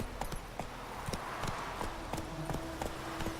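Roach the horse gallops in The Witcher 3, a rapid, even clip-clop of hooves close by, its steady rhythm running throughout with no speech over it.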